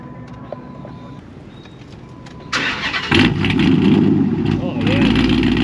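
A 2006 Dodge Charger with a 5.7 Hemi V8 and aftermarket exhaust cranks briefly, then fires and settles into a deep, loud, rumbling idle close by, with people talking before the start.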